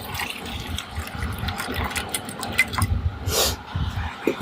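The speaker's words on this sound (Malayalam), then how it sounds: "ഇവിടെ നല്ല തിളച്ച വെള്ളമാണ് ഒഴിച്ചു കൊടുക്കുന്നത്" Boiling water pours and splashes into a bowl in uneven bursts for a few seconds, close by, with a brief louder gush near the end.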